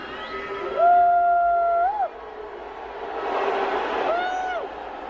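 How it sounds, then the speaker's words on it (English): Audience at a Dave Chappelle comedy show booing, a loud sustained crowd roar with drawn-out tonal jeers rising and falling, swelling again toward the end with a general crowd wash. "They just go right back to booing."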